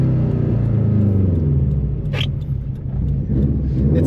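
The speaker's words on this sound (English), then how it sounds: "Man, the car drives really nice on these coilovers." A Subaru WRX STI fitted with aftermarket coilovers drives along at steady speed, its engine and road rumble forming a loud, continuous drone throughout with a brief higher whoosh midway and no talking.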